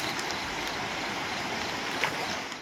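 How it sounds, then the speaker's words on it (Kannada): Floodwater rushes into roadside shops in Hassan after heavy rain, a continuous broadband wash of flowing water, fairly steady and close with no voices. "ಹಾಸನದಲ್ಲಿ ಅಂಗಡಿಗಳಿಗೆಲ್ಲ ನುಗ್ಗಿದ ನೀರು"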